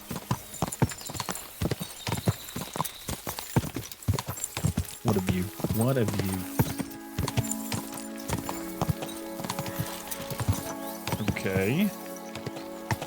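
A horse in the game Kingdom Come: Deliverance II, its hooves clip-clopping in a steady trotting rhythm, close and clear, with someone talking over it at intervals and a brief whinny-like sound.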